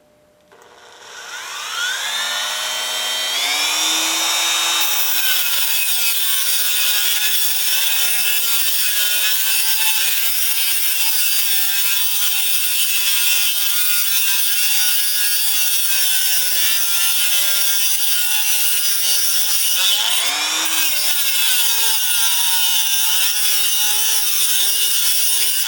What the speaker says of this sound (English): let me get my Dremel